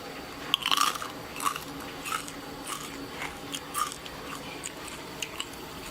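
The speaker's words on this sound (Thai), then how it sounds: "เดี๋ยวจะเคี้ยวให้ดู" Crispy Thai pork belly (moo krob) being chewed close to the mic, a run of sharp crunchy bites and crackles repeating steadily for several seconds with no talk.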